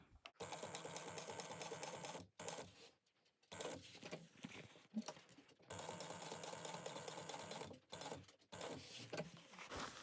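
A sewing machine stitches a laptop bag at an eighth-inch seam, running in several bursts of rapid mechanical patter separated by short pauses, close and fairly loud.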